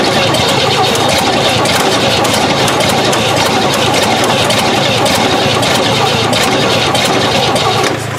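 A 1968 Chevy engine, sitting unused for 15 years, runs loud and close with a rough, steady mid-range roar that holds through the whole stretch before dipping slightly at the very end.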